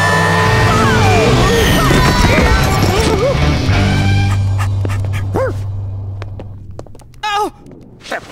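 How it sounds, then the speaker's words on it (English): A cartoon dog's supersonic bark from Dennis & Gnasher: Unleashed! sounds as a loud, busy blast of barks, screeches and whooshing effects over music. It then thins out into scattered yips and sharp animated sound effects. "Time to see if this baby can handle one of your supersonic barks."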